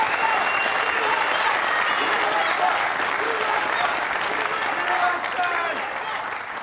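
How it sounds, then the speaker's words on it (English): Sustained applause from a large arena crowd before the deciding Baker-format match of the 2014 Weber Cup bowling contest between Team Europe and Team USA, a dense continuous roar of clapping that fades slightly toward the end. "give a round of applause ahead of this Baker finale"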